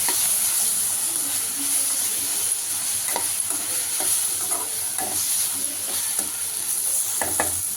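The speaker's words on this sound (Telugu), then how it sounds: "ఇప్పుడు టమాటా కూడా వేసి వేసుకోవాలి కొద్దిసేపు." Tomatoes frying in a pan for a biryani, with continuous sizzle and hiss under intermittent spatula scrapes and stirring taps, close up, no voices.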